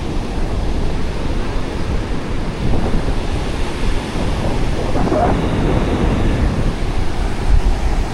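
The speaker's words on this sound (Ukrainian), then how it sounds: "І такі аж білі пінисті хвилі." Big white foamy ocean waves breaking on a beach in Vietnam, a steady loud roar of surf with wind noise on the microphone and no voices.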